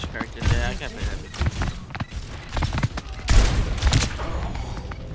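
Gunfire in the video game Overwatch 2, bursts of rapid shots and mechanical clatter in uneven clusters, loudest near the end, with a player talking over parts of it.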